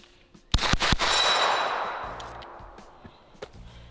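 Sharp gunshots from a folding pistol-caliber carbine, either a Smith & Wesson FPC9 or a Kel-Tec Sub2000 Gen 3, crack in a quick string of three or four close, loud reports, followed by a long fading echo at an outdoor range.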